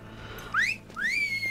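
A hunter in theHunter: Call of the Wild gives two rising whistles to call a dog, each one a clear upward sweep, the second longer and held, over a quiet background.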